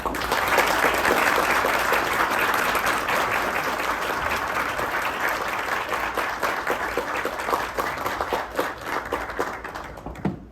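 Sustained audience applause welcomes Reggie Fils-Aimé onstage at a Seattle book presentation, full clapping that starts loud and gradually thins into scattered claps over ten seconds.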